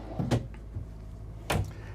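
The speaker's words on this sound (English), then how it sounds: "You've got the same drawers on each side, all soft close." Two soft-close wardrobe drawers in a 2024 Renegade Explorer 40ERB motorhome shutting, each a muted thud and slide about a second apart, close and quiet with no voices.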